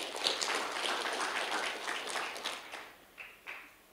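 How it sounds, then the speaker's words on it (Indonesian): A church congregation applauds steadily during a Sunday service, a dense wash of clapping that fades out toward the end with a few last claps. "Beri tepuk tangan buat Tuhan kita."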